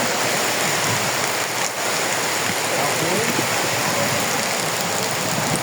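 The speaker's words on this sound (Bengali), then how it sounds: "এখানে এখন বৃষ্টি হচ্ছে" Steady rain pours beside the wide Meghna river at a fish landing ghat, a dense, loud, continuous hiss of drops on water and surfaces with no break.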